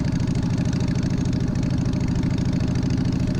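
A Harley-Davidson 1200 five-speed Sportster engine in a hardtail-converted custom bike idles with a steady, loud, close lumpy rumble and an even low pulsing beat throughout.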